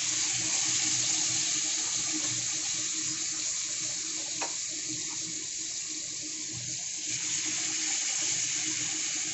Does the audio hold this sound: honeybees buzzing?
no